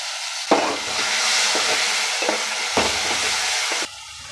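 Tomatoes drop into hot oil seasoned with turmeric and set off a loud, steady sizzle that swells sharply at the start and holds for about three seconds, with a few clinks of stirring before it cuts off.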